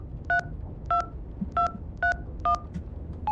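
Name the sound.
telephone number being dialed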